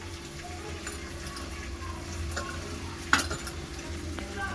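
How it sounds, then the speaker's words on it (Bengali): Spices and tomato fry and get stirred in a pan, a steady low sizzle with scraping strokes and one sharp clink of a utensil against the pan partway through. "মশলা জল আছে একটু দিয়ে ভালো করে কষে নেবো"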